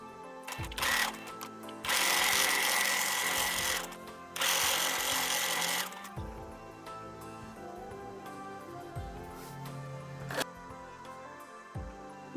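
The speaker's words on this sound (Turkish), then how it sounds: "Makine dikişini yapalım." A sewing machine stitches along the edge of a fabric pillow for a baby set, running in two loud sustained bursts, followed by quieter clunks and handling sounds.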